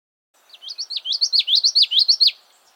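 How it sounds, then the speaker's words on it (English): A Common yellowthroat warbler sings a quick, near, clear phrase of about a dozen repeated bright chirpy notes in steady rhythm, alone against silence. "Common yellowthroats breed along the entire west coast."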